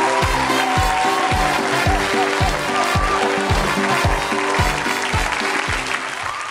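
Studio audience applause at a Beijing TV variety show, a loud continuous wash of clapping running throughout, with a steady pounding rhythmic beat of music underneath.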